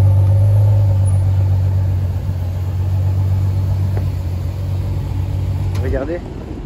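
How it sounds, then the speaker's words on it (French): A Ferrari GTC4 engine rumbles loudly close by just after starting up, a deep steady idle that eases slightly, while a person talks over it. "Démarrage de la GTC 4. Ça c'est du bruit magnifique les amis."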